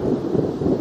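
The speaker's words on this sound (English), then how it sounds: "You can hear the thunder there" Low rolling thunder from a spotty Missouri storm, heard from a parking lot outside Fenton; a steady, continuous rumble with gentle swells, moderately loud and alone, with no talk.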